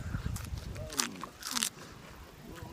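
A crunchy fresh beet stem bitten and chewed up close, with a few sharp crunches and crackles in quick succession, while a person talks over it.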